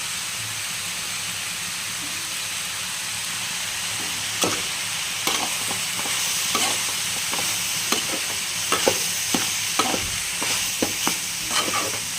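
Bitter gourd palya being stir-fried in a pan over low flame with grated coconut added, giving a steady soft sizzle with a run of sharp scraping stirs and clatters in the second half, close and alone.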